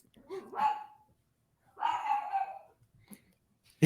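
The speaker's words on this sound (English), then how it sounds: "Your dog is going nuts" A dog barks excitedly in two short bursts close to the microphone, with a small yip near the end and quiet gaps between.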